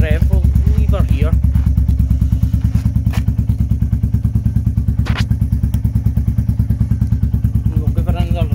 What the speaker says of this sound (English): We'll just give her another wee rev, we'll leave her here.